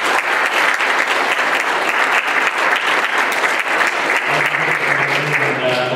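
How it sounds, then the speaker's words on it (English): An audience at a student council executive election speakers night gives a loud, sustained round of applause, with dense, continuous clapping from many hands and a faint tone entering near the end. "let's have one big round of applause for all of you"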